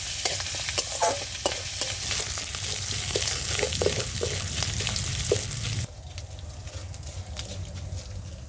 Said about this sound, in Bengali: অল্প আদা গেটার করে নিয়েছি সেটা দিয়ে দেব একটু ভেজে নেব